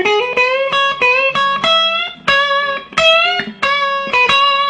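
An electric blues guitar lick, with bent notes and slides, played loud and close with slight distortion and effects, a handful of ringing notes over under five seconds.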